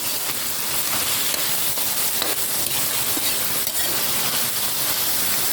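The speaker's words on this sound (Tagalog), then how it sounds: "haluin ko lang po" Chicken intestines (isaw) sizzling in a pan while being stirred for adobo: a loud, continuous hiss of frying with occasional scraping, close and steady throughout.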